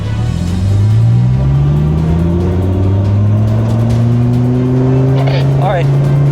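A Dodge Viper and a 2026 Dodge Durango Hellcat Jailbreak accelerate hard in a roll race, with loud engine roar and rising pitch as the gears climb, heard from inside the car.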